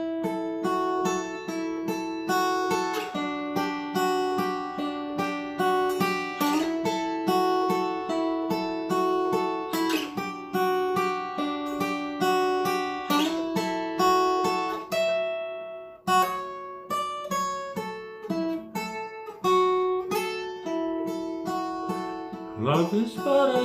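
Acoustic guitar plays the riff and strummed chords of a song, a steady rhythmic strum with melodic runs, loud and close with no voice, a short pause near the middle.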